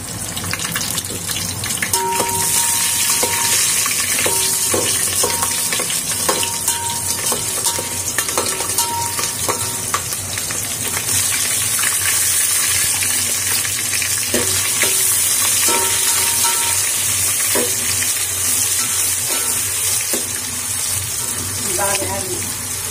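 Sliced onions and green chillies fry in a pan for an egg pulao, giving a loud continuous sizzle with occasional stirring scrapes and faint voices in the background.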